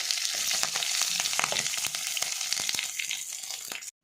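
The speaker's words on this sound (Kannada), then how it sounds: "ಇತ್ತೆ ನಮ್ಮ ನೆಕ್ ಒಗ್ಗರಣೆ ಪಾಡ್ಗ" Mustard seeds, garlic and curry leaves crackle as they are tempered in hot coconut oil for a lady's finger curry. A dense, close sizzle is broken by sharp popping bursts, then cuts off abruptly after about four seconds.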